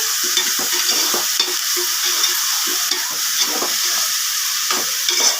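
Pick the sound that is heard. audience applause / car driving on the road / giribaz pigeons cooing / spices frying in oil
spices frying in oil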